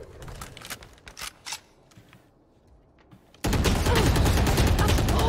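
Gunfire in the tactical shooter Valorant: a few scattered shots and clicks at first, then a sudden loud, dense burst of rapid firing that continues to the end.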